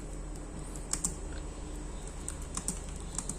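Soft typing on a Logitech K380 Bluetooth keyboard, a quiet close patter of light key clicks with a few sharper taps, no voices.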